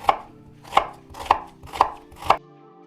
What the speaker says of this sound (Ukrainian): Наріжемо цибульку і грибочки.